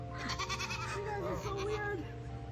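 A goat bleats several times in wavering, nasal, almost dog-like cries, close by and clear over a low background hum on a goat farm in Canada.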